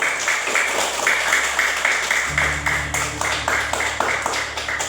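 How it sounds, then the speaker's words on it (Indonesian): Classroom group applause during a teacher-training lesson in Merauke, a steady wash of many hands clapping throughout, with a low hum entering partway through. "Kita tepuk tangan dulu."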